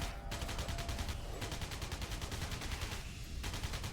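Rapid, continuous automatic gunfire in Alien Breed Impact, a dense rattling stream of shots that never lets up, with a couple of brief pauses between bursts.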